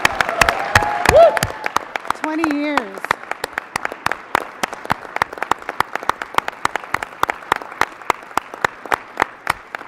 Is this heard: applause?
yes